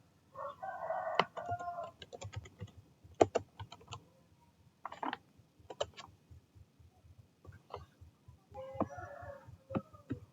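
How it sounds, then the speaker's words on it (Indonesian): Computer keyboard typing a table of contents in a document, irregular bursts of sharp key clicks, with rooster crowing and clucking audible in the background. "Langsung aja kita ketik."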